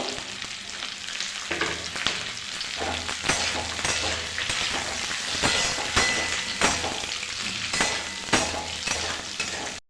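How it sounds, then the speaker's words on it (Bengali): Large-cut onions fry in a pan for an egg chilli, a steady close sizzle with intermittent scraping and stirring clatter throughout. "একটা বড় সাইজে পেঁয়াজ দিয়েছি ভালো করে ভেজে নেবো"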